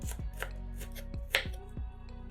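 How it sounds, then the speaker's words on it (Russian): Sweet bell pepper sliced into strips with a kitchen knife on a board: a handful of distinct, evenly spaced chops, close and clear, no voices. "а затем режем брусочками."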